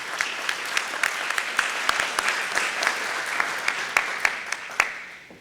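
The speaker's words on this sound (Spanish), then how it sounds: "Un aplauso, por favor." Audience applause at a university tribute ceremony honoring a professor, a steady wash of many hands clapping with sharper individual claps standing out, fading toward the end.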